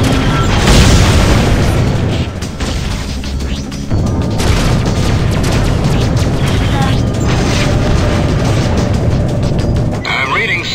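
Booming explosions and crashing blasts from a space battle in the video game Freelancer, a dense, loud continuous barrage of impacts and rumbling detonations with voices heard faintly over the combat.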